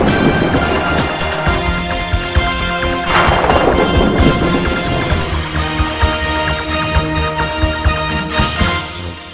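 Heavy rain pours down with a dense, constant hiss while thunder rolls and cracks loudly near the three-second mark and again toward the end, all at a crowded outdoor welcome event.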